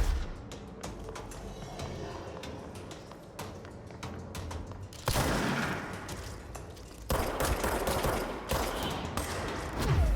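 Gunfire from the video game Control, with sniper-type shots among rapid sharp bursts and repeated cracks, dense and loud, building into heavier sustained volleys in the second half with no talking.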